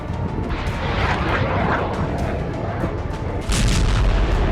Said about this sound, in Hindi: हाइमार्स और स्टॉर्म शैडो मिसाइलों से हमला कर रूस के 6 ठिकाने तबाह कर दिए